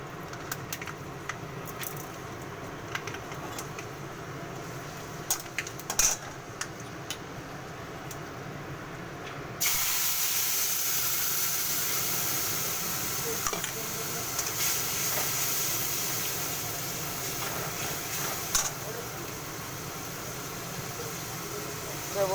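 Cumin and fenugreek seeds hit hot oil for tempering, starting a steady, fairly loud sizzling hiss partway through that follows a quieter stretch of faint ticking and clinks.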